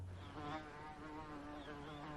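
A fly buzzes in an animated cartoon film, a faint, steady droning hum that lasts about two seconds with no voices.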